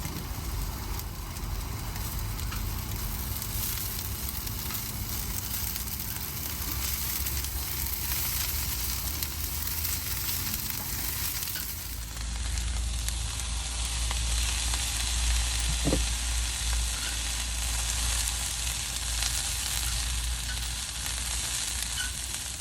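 Vegetables fry in a pan inside a camper van, giving a steady broadband sizzle throughout, with a low rumble underneath and a brief clink near the middle.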